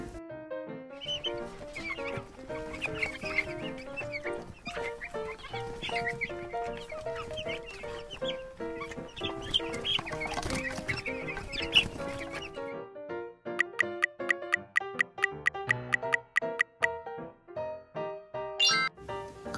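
A hen clucks and squawks over a busy musical backing, then quick bright plucked notes take over.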